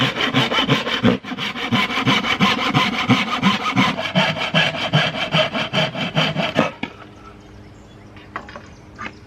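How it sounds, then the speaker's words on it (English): Rhythmic back-and-forth strokes of a hand saw cutting through the wood of a 1970s Motorola radio and record player console, loud and close, stopping abruptly and leaving faint background sounds. "That little bit takes off like 5 minutes of sawing."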